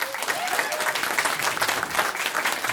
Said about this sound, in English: You might give them a round of applause.